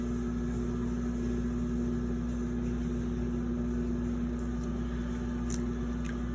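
A pottery wheel spins with a steady motor hum and a constant tone while clay is centered on it, and faint scraping and rubbing sit over the drone.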